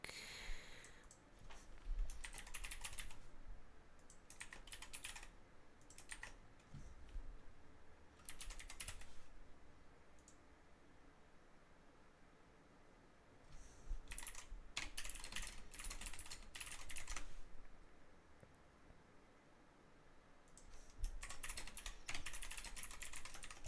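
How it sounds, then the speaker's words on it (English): Typing on a computer keyboard runs throughout, with steady close clicking broken by denser bursts of rapid keystrokes, faint background noise and occasional breathing underneath. "I'm typing in the Discord that you can see."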